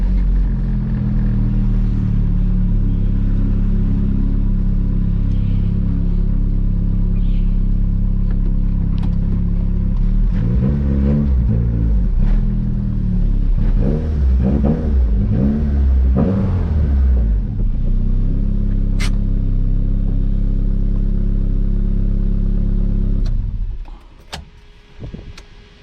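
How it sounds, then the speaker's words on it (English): Honda car engine with the check engine light on, loud steady idle and rev with harmonic bands swelling through the middle, held back from VTEC engagement, dropping away sharply near the end; no talking. "the car will not hit VTEC when the check engine light comes"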